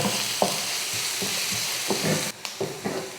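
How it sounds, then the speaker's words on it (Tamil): Chopped onions sautéing in a pan for an egg gravy, a steady close sizzle broken by repeated scraping stirs of a spoon against the pan. "நல்லா கொஞ்சம் லைட்டாக வதங்குற அளவுக்கு வதக்கிக்கோங்க"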